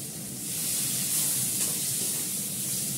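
Two or three green chillies fry in oil spiced with a fenugreek and nigella seed paste and onion, giving a steady, close, loud hissing sizzle that holds evenly for the whole stretch with no talking.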